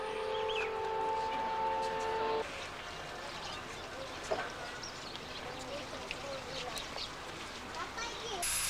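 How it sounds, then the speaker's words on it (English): The luxury Royal Orient train pulls into the platform at Delhi Cantt Station, with a sustained horn-like tone early on and then a steady rumble of rolling carriages, heard under a narrating voice. "The luxury train called the Royal Orient pulls in at the platform."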